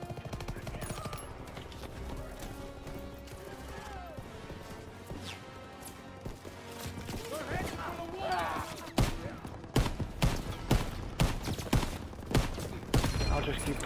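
Rapid gunfire in Call of Duty: WW2 crackles through a tense firefight, starting sparse amid game effects and building to loud, repeated rhythmic shots in the final seconds, with some voices faintly mixed in.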